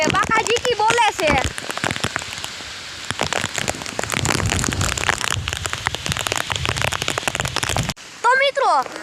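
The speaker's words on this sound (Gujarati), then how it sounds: "વરસાદ હજી ફૂલ બાકાજી કી આવે છે" Heavy rain pours down steadily on surfaces in a village during a downpour, with near, dense patter throughout, and a voice talking briefly at the start and again near the end.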